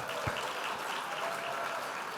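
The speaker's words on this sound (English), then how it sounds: "Please give her another big round of applause." Audience applause at a gala awards dinner honoring a constituent, a steady wash of clapping from a large crowd that holds evenly for a couple of seconds with no talk over it.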